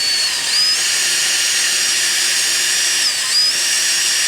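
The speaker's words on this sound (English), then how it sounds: "So I got my 1/2 inch bit here, drilling pretty much on number 1." A loud, steady high-pitched whine of a power drill with a half-inch bit boring into rubber outdoors, running continuously with slight shifts in pitch.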